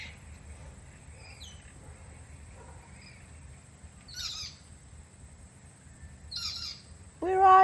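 Birds squawk and chirp in sparse, intermittent bursts over a quiet background hum, with a louder, sharper call near the end.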